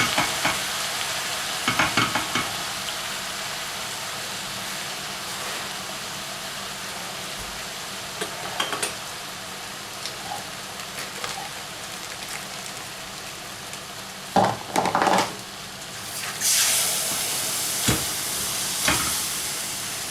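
Béchamel sauce cooks in a pan for a zucchini casserole, with a steady sizzle and bubbling under repeated stirring scrapes and a few louder clinks and knocks near the end.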